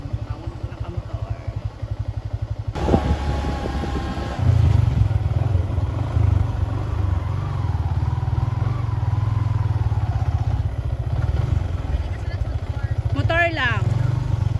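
A motorcycle rumbles close by in the Panay countryside of Antique, a low steady engine note that picks up and holds, with people chatting over it and a brief high sound near the end.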